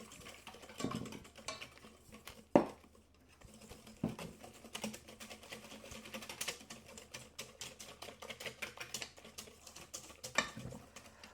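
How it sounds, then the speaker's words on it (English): A hand whisk beats flour into a Finnish blueberry bun batter, giving a quiet, steady patter of quick ticks and light scrapes against the bowl, with no talking. "I will start adding my flour a little bit at a time, while still whisking."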